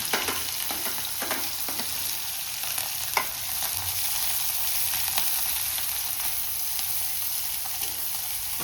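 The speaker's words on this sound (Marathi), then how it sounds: "आता आपण त्यात टाकणार आहोत कट केलेला कांदा" Chopped onion hits hot oil with mustard and cumin seeds for a sprouted moth bean usal, giving a loud, steady close sizzle with occasional spatula scrapes and one sharp tap.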